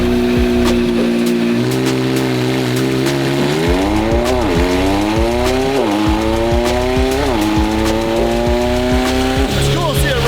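A McLaren 720 GTR with a newly built engine runs on a dyno, its loud, harmonically rich note rising and falling steadily over several revving sweeps, close and continuous.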